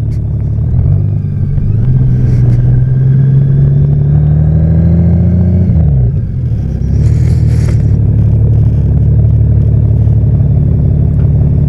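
Steady, loud engine drone of a motorcycle cruising a road in southern Colorado, holding a constant pitch with a brief dip and rise near the middle, plus wind rush and occasional scraping noise, with no talking.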